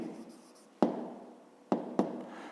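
A pen scratches softly on paper while the answer to a fifth-grade maths exercise is written by hand, broken by three sharp taps as the pen strikes the page.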